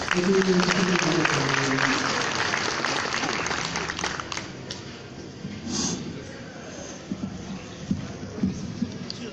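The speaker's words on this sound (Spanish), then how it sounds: "a quien lo recibimos con fuertes aplausos" An audience at a lecture on interculturality in Peru applauds a speaker's welcome, with dense, fairly loud clapping that gradually thins, voices murmuring underneath and a few isolated claps toward the end.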